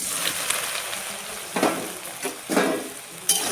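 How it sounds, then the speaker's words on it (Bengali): Soybean chunks frying in hot oil, a soft steady sizzle broken by a few louder bursts as the pieces are stirred or turned, close by with no voices. "তেলটা গরম হয়েছে সোয়াবিনটা ভেজে নিব"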